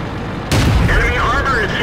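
A tank cannon fires and destroys an enemy vehicle in World of Tanks, a sudden loud boom whose rumble carries on under the game's continuing sounds.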